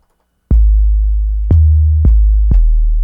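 Deep 808 bass tones from a Kontakt sample library played in the lowest octaves, four booming sub-bass hits with soft clicky attacks, each sustaining heavily into the next.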